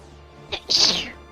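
A single close sneeze: a short sharp intake followed by a loud, hissy burst that trails off quickly.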